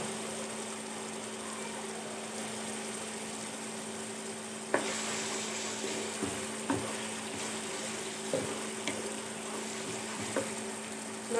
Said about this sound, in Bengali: মশলাটা তেলের সঙ্গে কিছুক্ষণ নাড়াচাড়া করবো